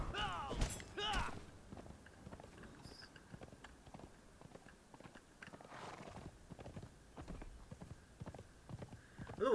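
Horse hooves clip-clopping in Conan Exiles: Isle of Siptah, a steady run of close, crisp hoof strikes at a walking pace, with a brief whinny early on and faint background sound.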